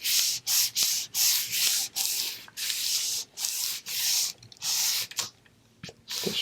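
A paper napkin being rubbed onto a jumbo craft tag in quick rhythmic strokes, each a loud close scrubbing swish with brief gaps between, ending with a few softer strokes.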